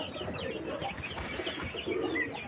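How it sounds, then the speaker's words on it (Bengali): Pigeons coo softly and repeatedly, several birds murmuring together at close range over a low background hum. "এইসব পায়রাগুলো যদি দরকার থাকে আপনারা নিতে পারেন"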